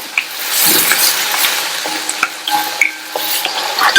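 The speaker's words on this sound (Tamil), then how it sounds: "சேர்த்த இந்த வெங்காயம் தக்காளி எல்லாம் ஓரளவு வதங்கி வரட்டும்" Onion and tomato sautéing in a pan for a pumpkin dish: a steady, fairly loud sizzle runs throughout, broken by scraping, clicking stirs from a spatula. No one speaks.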